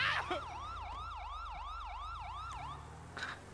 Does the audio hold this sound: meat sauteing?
no